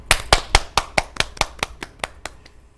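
Applause from an audience at a presentation event, a series of sharp, loud claps in a slowing rhythm that grows fainter over a few seconds, with no talking.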